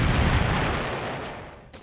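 A missile strike explosion in the OpenRA Red Alert strategy game lands as a loud, deep boom whose rumble fades away over about two seconds, with no voices.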